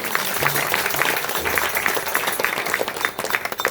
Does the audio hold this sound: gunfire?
no